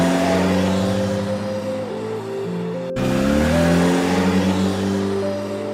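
A truck engine drones loudly and continuously, its pitch dipping and rising as the vehicle pulls away, with a sharp break midway before the revving resumes; no voices.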